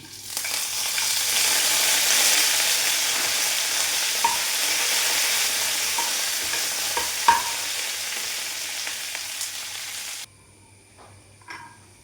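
Garlic, curry leaves and dried red chilies fry in hot oil as a tempering for mango curry, a loud continuous crackling sizzle with a few pops, cutting off abruptly near the end to leave faint quiet clatter.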